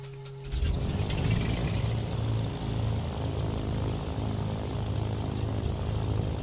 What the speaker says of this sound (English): let's see if we can start this aircraft up